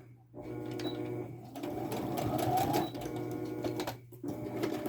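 A sewing machine runs in close-up while back stitching a snap bag, whirring steadily for several seconds with brief pauses at the start and near the end as the stitching direction changes.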